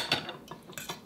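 Utensils clink and scrape against a dish while mixing food into rice at a wilderness campsite meal, a few quick metallic taps and scrapes close by over a short stretch, with no talking.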